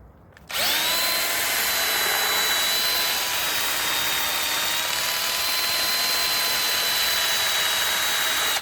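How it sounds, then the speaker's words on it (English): A drill brush scrubs a plasterer's van, a loud, steady high-pitched whirring drone with a tonal whine that starts abruptly after a brief quiet moment and runs continuously close by, with no voices. "if you haven't got one of these drill brushes, I highly recommend you go out and buy yourself one"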